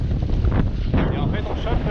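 Strong wind buffeting the microphone on a sailboat at sea in choppy, wind-against-current conditions: loud, uneven gusts of roaring rush.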